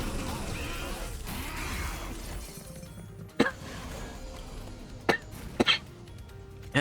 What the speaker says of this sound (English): I got a weird amount of cough right now